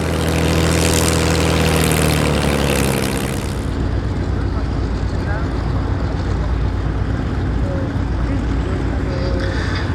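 An attack helicopter of the kind flown by Warsaw Pact forces passes overhead at the Duxford airshow, its loud rotor and engine roar strongest at first, then easing to a steady distant drone.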